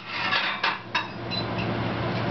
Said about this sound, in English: Still stirring, making sure I get every last bit of it.